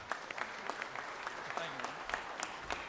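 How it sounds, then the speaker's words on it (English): Applause in a state legislative chamber, a fairly faint but steady patter of many hands with scattered louder claps, continuing without a break. "y'all give head coach J.T. Wall a round of applause here."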